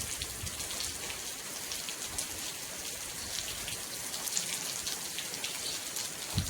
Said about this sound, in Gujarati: ચાલો વરસાદ તો ચાલુ રહેશે